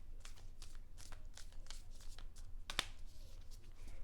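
Oversized tarot cards shuffled by hand in a quiet room, a close, soft series of riffling and sliding flicks with one sharper snap partway through.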